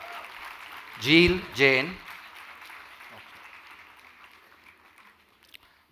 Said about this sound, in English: Guys, give them a round of applause, please.